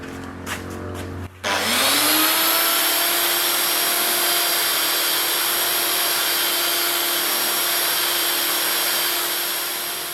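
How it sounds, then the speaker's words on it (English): A belt sander starts up and runs steadily, shaping scrap wood for an old English wooden hay rake; a loud, close, continuous whine and hiss with a few brief knocks just before it spins up, and no talk. "I move over to the belt sander."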